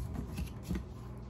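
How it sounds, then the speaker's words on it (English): A short splash of liquid poured into a homemade drink, heard close as a steady, hissing trickle with a couple of slightly louder bursts, and no talking over it. "And we're gonna pour a splash of this."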